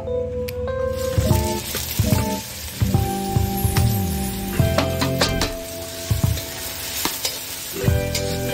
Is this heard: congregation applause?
no